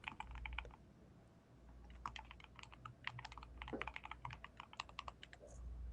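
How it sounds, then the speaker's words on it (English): Someone types on a computer keyboard during an online call, a steady run of soft, rapid key clicks in irregular bursts, fairly faint and alone without talk. "There's someone else typing."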